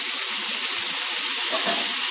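A small splash of water poured into spices cooking in a pan, for a Bengali fish roe fritter curry (macher dimer borar dalna), giving a continuous hissing, gushing sizzle at close range with no talking.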